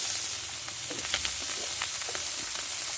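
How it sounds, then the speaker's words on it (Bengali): Spice masala with chopped tomato fries in a pan, giving a steady close hiss and sizzle with faint stirring scrapes and pops throughout. "এই মশলাটা একসঙ্গে আমি কষে দেবো"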